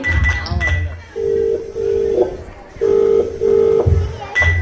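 A phone ringback tone repeats in two long buzzing pulses, each pair followed by a pause, with a voice talking briefly at the start and end.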